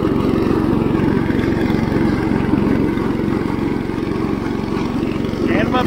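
An IH Cub Cadet 149 lawn tractor mows heavy, tall barnyard grass with dull blades, its engine droning loud, close and continuous, with a steady hum throughout.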